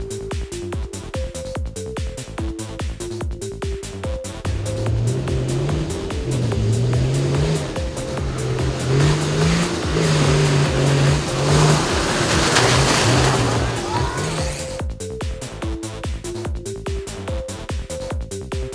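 Rally cars racing off-road at the Kislovodsk Trophy event in 2015, engines roaring and revving continuously with shifting pitch, loud and close throughout, with a dense burst of noise midway as a car passes by.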